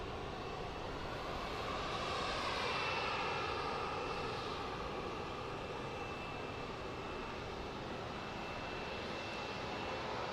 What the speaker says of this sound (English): Embraer Legacy 500.